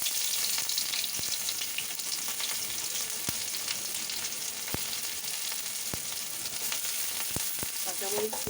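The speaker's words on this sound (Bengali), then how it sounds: "কাঁচামরিচ পেঁয়াজ একসাথে দিয়ে দিলাম।" Chopped green chillies and onion frying in hot oil for a taro-stolon and shrimp dish, giving a dense, continuous sizzle broken by sharp pops and clicks. It is close and steady throughout, with no talk.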